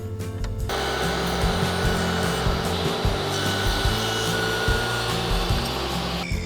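A power tool trims a back bevel along a wooden headboard cap, its motor whining loudly and steadily from start to near the end while the cutting adds rough, uneven texture.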